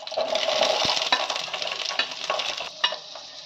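Capsicum frying in oil in a pan for an aloo capsicum masala, a steady close sizzle with stirring scrapes and a few light clinks throughout, no talking.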